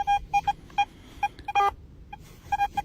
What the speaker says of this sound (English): Now I'm adjusting the ground balance dial till I make the machine full silent as possible.